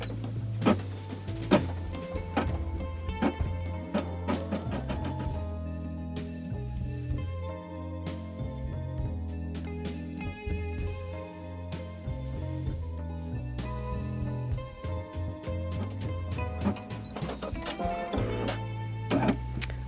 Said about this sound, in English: lift the presser foot, grab that thread, pull it a little bit, let it go for a couple stitches